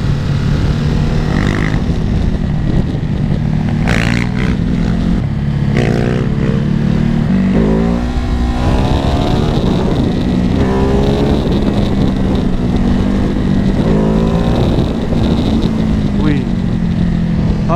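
A Ducati Hypermotard 950 SP on an Italian road trip accelerates hard, its engine note climbing through repeated rising revs and gear changes, loud and close with heavy wind rush.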